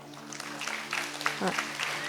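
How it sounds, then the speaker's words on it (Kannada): An audience claps at a yoga event, a scattered round of applause rising under a voice speaking over the crowd. "ಬರಲಿ ಜೋರಾದ ಚಪ್ಪಾಳೆ"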